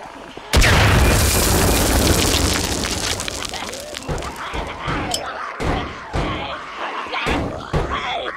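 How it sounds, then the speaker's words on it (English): A grenade detonates with a sudden loud boom in Contagion, a game set in an abandoned house, followed by a long rumbling decay and scattered debris thuds, with voices shouting at intervals. "Watch out! Grenade!"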